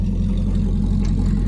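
A truck engine with a newly installed max-effort RFE transmission runs steadily, its deep, even drone holding a constant low hum with no voices.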